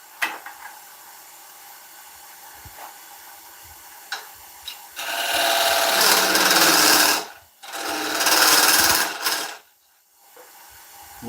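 Skew chisel cutting an oak platter on a wood lathe, two sustained rough hissing, chattering bursts of several seconds each between quieter pauses with scattered knocks, close and loud, no talk.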